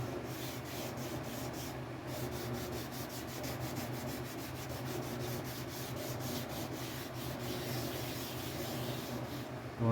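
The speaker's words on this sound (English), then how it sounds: "What we're trying to do is sand this without breaking through the first couple of coats of clear on it" A steady, soft scratchy rubbing of sandpaper on the clear coat of a burnt orange Telecaster guitar body, continuous with quick repeated strokes, close and fairly quiet with no talking.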